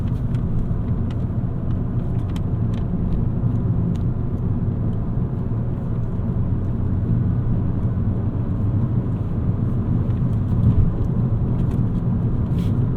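A 2018 Fiat 500 Pop hums on the road during a test drive, a continuous low engine and road rumble at steady level with slight swells, no voices heard.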